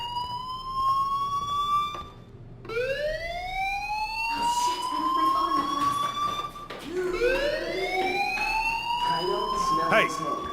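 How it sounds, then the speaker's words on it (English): Fire alarm ringing in the video game Life Is Strange, loud rising and wavering electronic siren sweeps repeating several times with brief gaps, heard alone without talk. "Hey, do you hear that fire alarm?"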